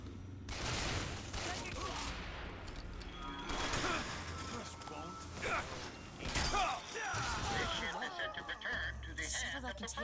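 Gunfire in the BioShock video game, dense bursts of shots and mechanical clatter running nearly continuously over a loud, busy game mix, with a voice talking over the action.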